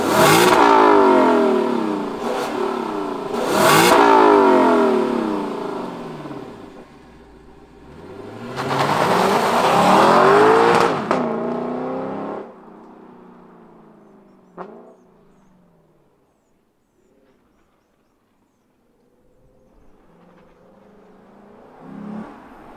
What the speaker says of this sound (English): Let me show you and fire up this LC500.